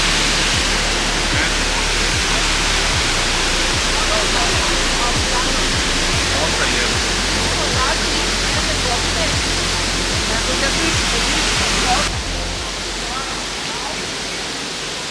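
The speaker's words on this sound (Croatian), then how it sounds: "Ovdje ima ovaj vodopad." A waterfall at the Krupajsko Vrelo spring roars steadily and loudly throughout, a dense continuous rush with faint rhythmic thumps beneath.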